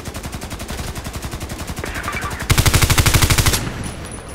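Rapid automatic gunfire from the Colt IAR in the online shooter Contract Wars rattles in a steady stream, growing louder and denser halfway through before cutting off, with music underneath.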